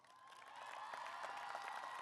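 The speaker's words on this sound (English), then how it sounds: "please rise and be recognized with a round of applause" A university commencement audience claps in a brief burst of applause, a dense, even patter that swells slightly and stays fairly faint and distant.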